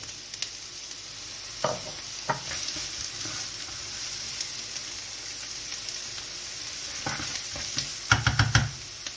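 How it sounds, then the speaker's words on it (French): Spring onion, garlic and red onion sizzling in olive oil in a hot frying pan, a faint steady crackle broken by occasional utensil scrapes and stirring clatter near the end. "On va y faire revenir la cébette, l'ail et l'oignon rouge."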